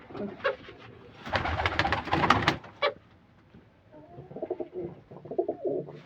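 Domestic pigeons kept by a pigeon fancier coo up close, a loud burst of throaty rolling calls followed by softer, repeated cooing phrases with brief pauses.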